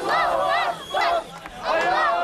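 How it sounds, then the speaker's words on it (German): A crowd celebrating in the street, cheering and chanting names in loud, rhythmic bursts of massed voices separated by short pauses. "Menschen rennen auf die Straße, jubeln, skandieren die Namen von Märtyrern, feiern ein Freudenfest."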